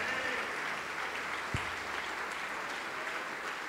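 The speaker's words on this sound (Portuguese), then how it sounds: "Vamos aplaudir mais, igreja." Sustained applause from a church congregation, an even, dense patter of many hands holding steady, with one brief thump near the middle.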